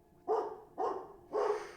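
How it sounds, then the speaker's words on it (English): A dog barks loudly three times in quick succession, close and sharp, with short gaps between barks. "my dog started barking loudly"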